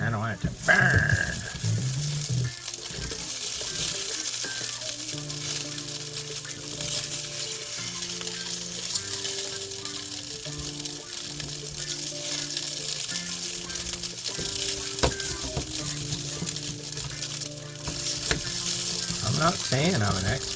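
Nissin Chikin Ramen pizza-flavor instant noodles frying in a pan, giving a steady, close crackling sizzle throughout, with faint music in the background.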